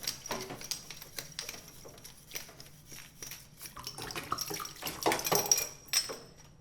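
A beer bottle for homebrew being rinsed under water and scrubbed inside with a bottle brush, with irregular splashing, trickling and glassy scraping and knocks that grow louder toward the end, no talk.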